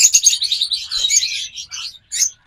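Pet birds in a breeder's stock, lovebirds, cockatiels and doves, chirp in rapid, bright, overlapping bursts, loud and close, pausing briefly near the end.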